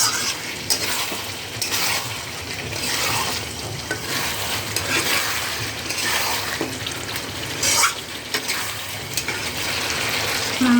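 Chicken and potatoes are stirred and fried in a pan, a steady close sizzle with continuous scraping stir strokes for the whole stretch, and no one talks.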